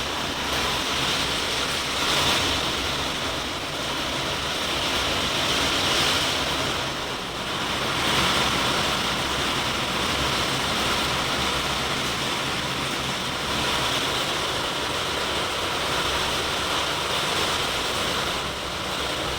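Heavy rain pours on the roof of a room in a dense, continuous roar with slow swells in intensity, steady and unbroken with no voices or other sounds.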